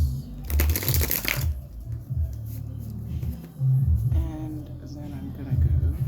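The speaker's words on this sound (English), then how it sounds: "I'm gonna take each of those in half and shuffle in half of that and half of this." A deck of cards is shuffled by hand in a quick riffling burst near the start, followed by softer handling, with a person talking throughout.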